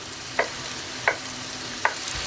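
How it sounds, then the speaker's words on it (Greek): Red pepper, from a can, being stirred in a hot pan: three evenly spaced spoon scrapes stand out over a faint, steady sizzle, with no voices. "Ανακατεύω."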